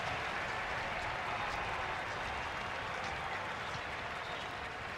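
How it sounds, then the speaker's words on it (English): Baseball stadium crowd at an MLB Wild Card game between Cleveland and Detroit, cheering and applauding in a steady, dense roar that holds evenly throughout, heard from a distance with no voices standing out. "Crowd trying to help Gavin Williams."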